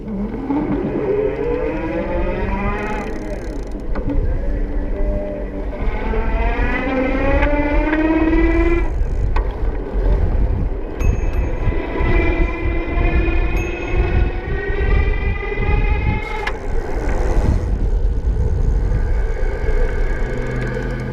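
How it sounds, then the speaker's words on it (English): An Ariel Rider W-Class e-bike hub motor at the highest assist level gives a loud, rising electric whine that climbs in pitch through several speed ramps, drops and climbs again over steady wind and road rumble. "I'm going to start off in the highest level of assist here, so the motor will be more pronounced"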